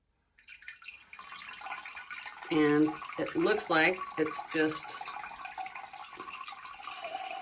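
Cool-water spray from the cleaning nozzle of a non-electric bidet, a steady hiss of running water that starts early and continues throughout while a person talks over it.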